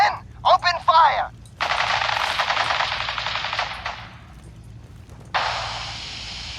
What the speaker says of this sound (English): Stop or we'll shoot. Men, open fire.